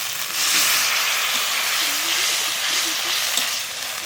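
Ground cumin, coriander and chili paste with a splash of water sizzling loudly in a pan for a crab curry, a steady close hiss of frying with faint stirring underneath.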